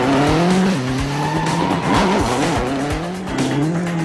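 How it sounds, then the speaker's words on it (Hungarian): A rally car slides as a hydraulic handbrake locks its rear wheels. The engine roars loudly and continuously while the tires squeal in rising and falling streaks. "És már farol is az autó."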